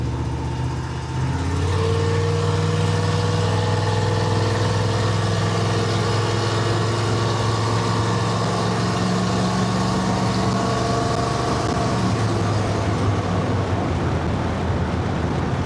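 Car engine fitted with an oversized carburetor pulling steadily while driving at higher speed, a loud continuous drone with a strong low hum and a slight pitch shift partway, no talk.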